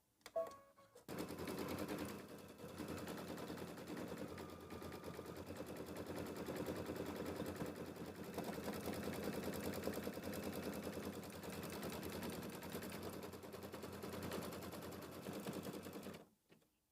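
Embroidery machine stitching out letters on a quilt piece held in a hoop, a faint, steady rapid mechanical chatter running continuously for about fifteen seconds after a brief start.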